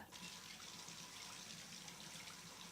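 Hot water runs from a tap, a soft, steady splashing stream that continues evenly for a few seconds, quiet and close with no voices.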